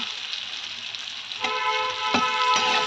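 Pieces of elephant foot yam fry in hot oil for a hilsa curry, a steady close sizzle with a few sharp clinks of a utensil against the pan partway through, and no talking.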